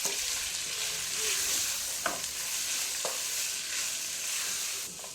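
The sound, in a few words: frying cinnamon and salt in a pan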